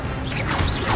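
An Accio spell fires in the video game Hogwarts Legacy, a short swelling magical whoosh with a heavy thud as it lands, lasting about a second.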